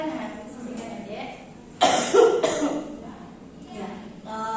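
A child coughs in a short burst of loud, harsh coughs during a family nursing care roleplay, with adults talking quietly before and after.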